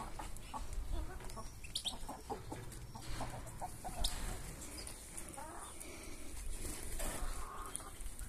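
Colombian Brahma chickens clucking in a yard, with a rooster among them; repeated short clucks and calls close by, some louder squawks, while a person talks intermittently in the background.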